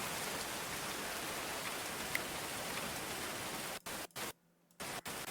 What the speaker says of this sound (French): Et il pleut encore.